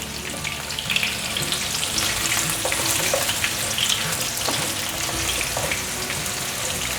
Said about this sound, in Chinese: 现在可以让它慢慢的炸